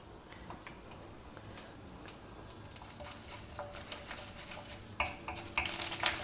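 Mustard seeds, urad dal, channa dal and cashews frying in hot oil in a kadai, a soft steady sizzle with scattered ticks and pops that grow louder and denser toward the end as the seeds start crackling.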